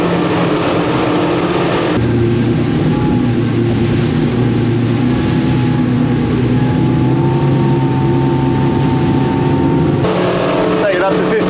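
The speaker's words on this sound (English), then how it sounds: "A bit noisy, but that's Yamaha and twin motors, I guess." Twin Yamaha 200 outboard motors drive a Seaking 770W boat at speed, a loud steady engine drone with layered hum and wind rush running throughout, briefly dipping near the end.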